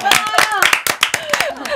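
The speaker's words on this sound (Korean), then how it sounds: "박수." A few people clap briskly in a Korean radio studio, short close hand claps mixed with overlapping voices and exclamations.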